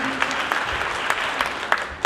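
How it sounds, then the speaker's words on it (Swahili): A church congregation at a cathedral's music Sunday service claps together in a loud, lively round of applause. A few sharper individual claps punch through the crowd. "Pigeni makofi mzuri ya Kilifi."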